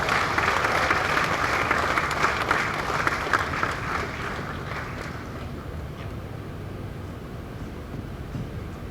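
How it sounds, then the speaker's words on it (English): Audience applause welcoming the co-founder of 10XU onto a launch-event stage, a dense sustained clatter of many hands that gradually thins and softens toward the end. "Can we have a big round of applause for him"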